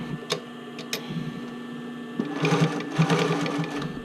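Sewing machine stitching a bra cup into the band, starting with a few sharp ticks, then a quick rhythmic mechanical whirring run of stitches, close and steady for the last couple of seconds.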